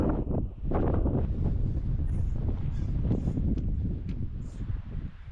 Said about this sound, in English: the wind blowing in your ear constantly for the past hour has actually done my head in